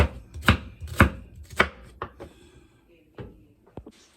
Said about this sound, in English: got my onions all diced up